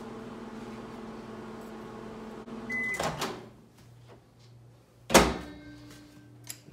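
A microwave oven heating oatmeal hums steadily, then the door clunks open with a sharp thump, followed by quieter handling and a second loud bang of the door, with no talk.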